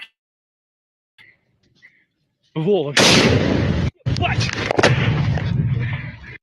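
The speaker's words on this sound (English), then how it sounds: "HIMARS are now even used to destroy fortified Russian positions." HIMARS rocket strikes hitting fortified Russian positions: after quiet with faint sounds, a rising whine leads into a long, loud roaring blast, a brief cutoff, then more sustained rumbling explosions and booming.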